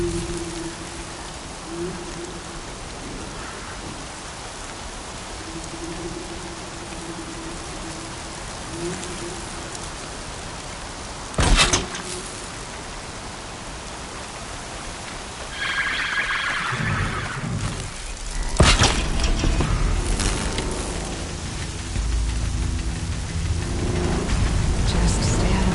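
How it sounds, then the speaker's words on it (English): Steady rain hisses through an open-world scene in the video game Horizon Zero Dawn, a constant wash of drops under low game ambience, with a sharp louder burst near the middle and heavier rumbling action toward the end. "Raining like it's trying to wash everything away."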